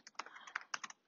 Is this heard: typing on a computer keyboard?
yes